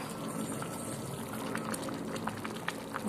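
Water poured into a pan of cooking village-style Nellore fish curry (chepala pulusu), a steady close liquid wash and bubbling with small splashes throughout, no talking.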